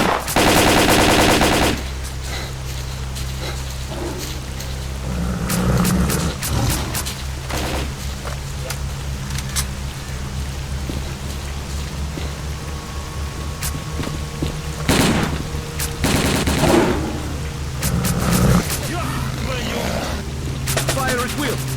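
Bursts of automatic gunfire in STALKER Call of Pripyat crackle through a steady rumbling backdrop, with sharp loud volleys at the start and more scattered shots later, while voices shout over the fight.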